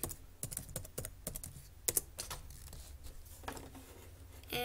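Computer keyboard typing while entering a login username and password: bursts of quick, close key clicks with short pauses between runs, no talking.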